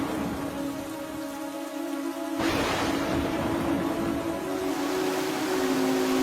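Heavy continuous rain pours down in an animated story set by a swelling river, a dense steady hiss of drops that grows fuller midway, with a faint low rumble beneath.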